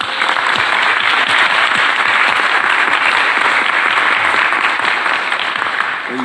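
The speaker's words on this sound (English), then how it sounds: "give her a round of applause again" Sustained, dense applause fills an audience hall at a South Carolina town hall on education and criminal justice, loud and even throughout with no pauses.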